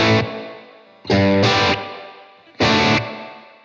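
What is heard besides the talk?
guitar through Blackstar Amped 2 plate reverb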